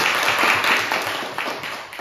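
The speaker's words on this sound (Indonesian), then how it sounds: "Oke, tepuk tangan untuk kelompok ini." A junior high school class in a volleyball PE lesson applauds a group, a dense burst of many hands clapping at once, close and loud, with faint voices mixed in.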